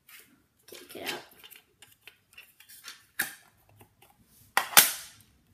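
A cassette tape being removed from a Sony Walkman: scattered plastic clicks and rattles, then a sharp snap near the end, close and alone.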